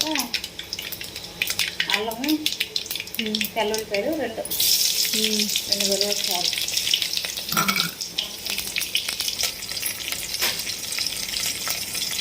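Tempering spices such as cumin, fenugreek and poppy seeds fry in oil for an old-style fish curry. A voice talks over a soft sizzle at first, then the hiss grows louder and steadier partway through.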